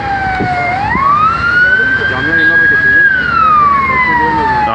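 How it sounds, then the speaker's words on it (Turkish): Wailing ambulance and police sirens sound after an explosion in Izmir, loud and continuous, with the pitch sweeping up and down over a steady rush of street noise. "Şu an yani ambulanslar çıkıyor."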